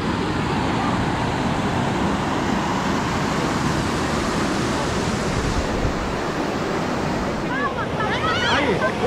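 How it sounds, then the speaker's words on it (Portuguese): Water rushes steadily over a small waterfall outdoors, a loud continuous broadband roar filling the whole clip, with brief higher chirps or voices near the end. "Chegamos aqui na cachoeirinha."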